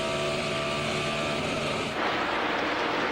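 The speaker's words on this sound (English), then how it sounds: "Hear the engine hit the rev limiter there?" A NASCAR Cup car at Charlotte in 2000, heard onboard with Ward Burton: a loud, continuous engine roar with a steady high-pitched whine that cuts out abruptly at the rev limiter, then resumes with a rougher, lower drone.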